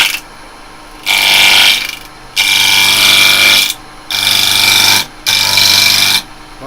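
Wood turning on a lathe as a round carbide tool takes the corners off the blank: four loud, close bursts of harsh cutting, each lasting about a second, with the quieter hum of the spinning lathe between them.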